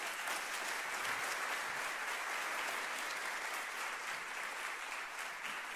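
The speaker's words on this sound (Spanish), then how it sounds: "el Señor Jesús merece un aplauso grande por eso" Large audience applauding steadily at a religious talk on kindness, a dense, even wash of clapping that holds at constant level throughout with no voices over it.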